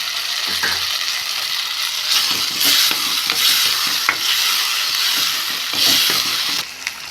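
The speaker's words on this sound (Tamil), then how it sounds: "இப்போ வெங்காயம் தக்காளியும் நல்லா வதங்கிடுச்சுங்க" Onions and tomatoes sizzle steadily in a hot pan, with scraping stirs and occasional clinks of a utensil, close and continuous.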